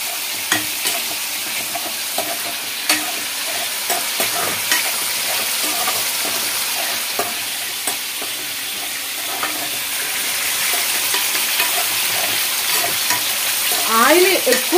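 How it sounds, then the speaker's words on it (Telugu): Gongura chicken pickle is stirred through plenty of hot oil, a loud, close, continuous frying hiss with soft rhythmic stirring scrapes that swell toward the end. "కెమెరామెన్ గారు ఒక్కసారి ఇది కూడా కలుపుకుందామండి."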